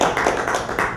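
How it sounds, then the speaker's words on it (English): A luncheon audience gives a brief, dense burst of applause for Dr. Judy, many hands clapping together at close range and fairly loud. "So give Dr. Judy a big round of applause"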